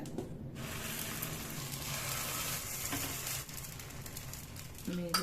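Paddu batter frying in an oiled paddu pan, a steady close sizzle that holds throughout with a brief louder crackle near the end.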